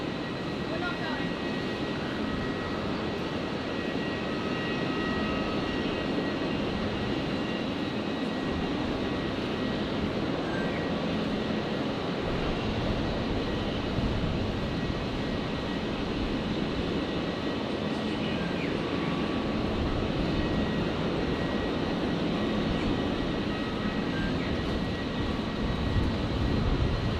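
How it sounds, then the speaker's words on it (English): Airplane taking off at Brisbane airport, a steady broadband engine roar holding at even loudness throughout, with voices talking over it now and then. "Dad, it's takeoff now."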